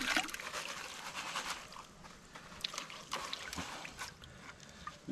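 Creek water sloshing and washing over a gold pan of gravel at Bendigo Creek, irregular gentle splashes and trickles close by, fairly quiet, with no talking.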